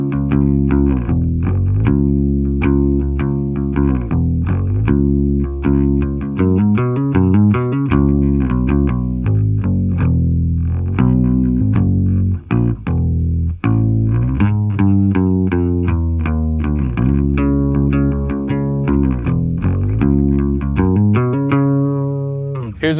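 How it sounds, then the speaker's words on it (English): Clean electric bass guitar played through a direct input on the neck pickup, a loud, continuous riff of sustained notes with rhythmic note changes and no other sounds. "here's what it sounds like clean, just the DI, just the neck pickup"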